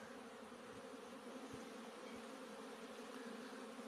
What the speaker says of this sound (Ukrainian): Ось що на пасіці відбувається. Потужний обльот.